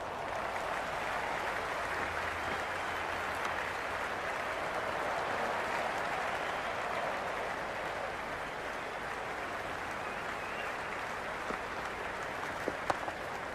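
Sustained crowd applause and cheering in the cricket video game Cricket 26, during a Lahore Qalandars versus Islamabad United match; a steady, broad roar that holds at even loudness throughout, with a few faint sharp accents near the end.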